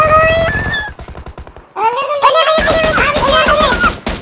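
Gunfire in the PUBG Mobile game, loud rapid bursts of shots over game music tones, with excited voices talking over the shooting.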